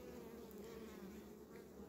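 Honey bees buzz in a continuous low drone, a dense swarm humming steadily and close, with no voices heard.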